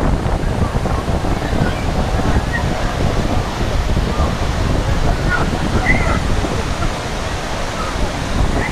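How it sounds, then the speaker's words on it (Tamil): Steady, loud rush of falling water fills the whole clip, a dense broadband roar with no pauses and no clear voices. "ஃபால்ஸ் சத்தம்,"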